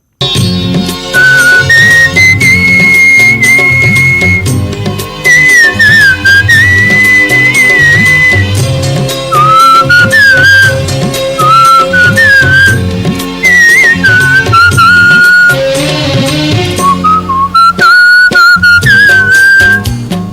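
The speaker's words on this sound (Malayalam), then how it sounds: "എറണാകുളം കൂത്താട്ടുകുളത്ത് ചൂളമടിച്ച് ശ്രദ്ധേയനായ ഒരച്ഛനും മകനുമുണ്ട്" A father and son whistle a melodic tune together, clear sustained pitched notes sliding between phrases over a loud backing track, close and continuous with no talking.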